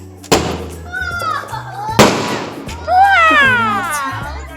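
Fireworks and firecrackers set off on a house rooftop in the evening: two sharp loud bangs, each followed by whistling, crackling trails, while people, including children, talk and call out in the background.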